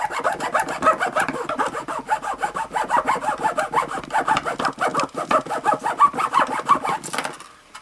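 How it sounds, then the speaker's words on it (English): A wound guitar string is worked back and forth against a cracked plastic gear from a blend door actuator, cutting grooves with a fast, rhythmic sawing rasp, close and steady for several seconds before stopping. "I'm going to take this wound guitar string, I'm just going to work it back and forth."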